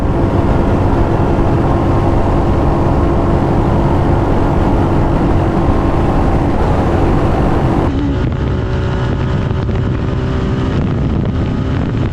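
A 2025 Royal Enfield Hunter 350 motorcycle races at speed in fifth gear, its engine drone buried in loud, continuous wind rush against the rider's microphone, with a sudden shift in the roar near the end.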